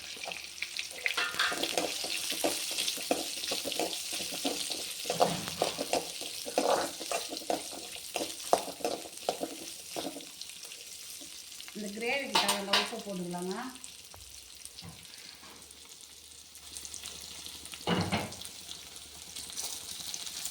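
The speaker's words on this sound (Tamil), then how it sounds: "இப்போது ஒரு பத்து வெங்காயம் அரிஞ்சு வச்சுருக்கிறேன் சின்ன வெங்காயம் அதை போட்டுக்கலாம்" A handful of chopped small onions (shallots) sizzles in a pan for a gravy, a soft continuous frying hiss with occasional stirring clatter, heard beneath someone talking.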